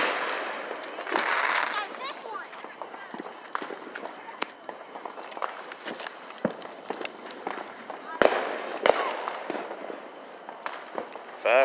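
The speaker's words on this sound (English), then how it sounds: "Firecrackers going all over the damn place." Firecrackers and fireworks go off around a neighborhood block at a family fireworks show, with scattered sharp pops and bangs both near and distant, some clustered in rapid bursts, while voices and footsteps are heard between them.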